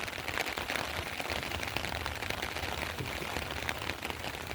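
Steady rain pours down outdoors during a heavy downpour in the countryside, a dense continuous hiss of drops with scattered patters, close and even throughout, no voices.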